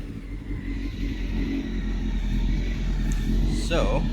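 A Honda CBR600 F3 inline-four motorcycle with its original exhaust idles with a steady low rumble, then revs sharply near the end of the clip. The machine sounds close, and the engine is heard alone with no talking.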